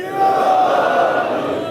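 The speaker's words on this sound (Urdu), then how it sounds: "نعرے حیدری" A large gathering in a mosque in Gilgit calls out a religious slogan in unison, one sustained loud collective shout that swells quickly and holds before easing off.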